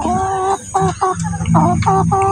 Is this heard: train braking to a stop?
no